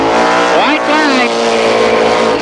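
Race cars roar past at Columbus Motor Speedway during a 1990 short-track shootout, engines loud and close with a rising, then falling pitch as they sweep by, tires squealing briefly, under a race announcer's voice.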